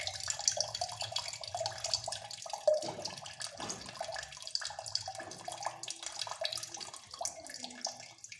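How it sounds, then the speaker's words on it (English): Water drains from a water tank, a continuous hissing, splashing gush of flowing water heard up close with some trickling and gurgling, steady throughout without speech. "Now you can see all water drain"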